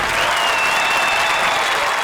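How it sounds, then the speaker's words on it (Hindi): Dense, steady applause from a studio audience at a comedy show, loud and continuous throughout without a break. "उनके लिए जोरदार तालियां।"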